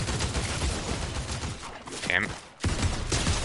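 Rapid gunfire rattles in a video game, dense bursts of shots under a player's talk, with a short pause and then more firing.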